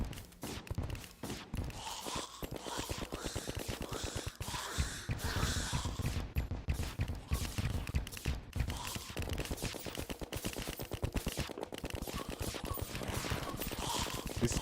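Rapid, continuous gunfire in the video game Terraria 1.4.5, where a player is being sniped; dense bursts of shots crackle without pause for the whole stretch at moderate volume.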